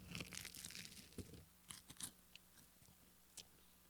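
Someone bites into a crispy pizza crust from Oliveri's Pizzeria, producing a few sharp, close crunches and crackles followed by quieter chewing snaps, with no talking.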